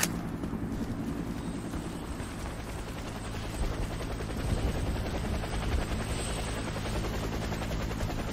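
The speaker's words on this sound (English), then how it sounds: "Helicopter is inbound." A helicopter arrives for extraction in the video game Warface, its rotor thudding steadily and loudly for several seconds, with the noise swelling slightly as it draws nearer.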